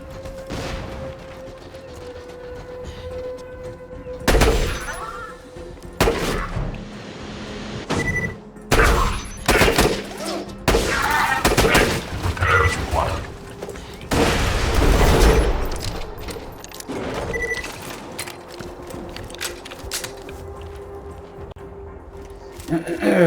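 Controlled bursts from the Leuda, a legendary Droog rifle in Borderlands 2, crack out in spaced volleys with booming impacts, while someone talks steadily over the shooting.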